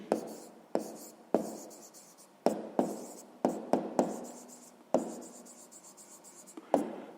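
A pen writes numbers on paper while working a sixth-grade math exercise on positive and negative numbers, giving close, quiet scratching strokes in separate bursts, about a dozen short scribbles with pauses between them.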